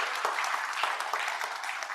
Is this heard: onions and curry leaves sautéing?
no